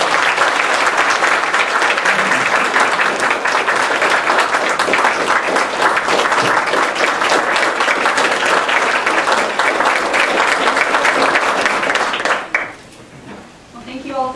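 A large audience at a military academy send-off breakfast claps steadily and loudly in sustained applause to welcome a speaker, fading out abruptly near the end as the room settles.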